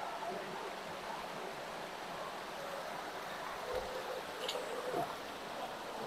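Water from a spring inside a cave resort flows with a soft, steady rushing hiss, faint and continuous, with a few small knocks.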